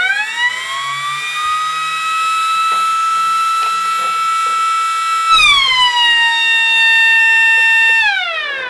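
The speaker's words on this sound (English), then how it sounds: "I'll cover the air intake to the siren so you can hear the buzzer." Loud, steady wailing from a homebuilt 12-volt outdoor warning siren with a buzzer, holding a high pitch, then dipping in tone twice as it winds down and back, close and continuous.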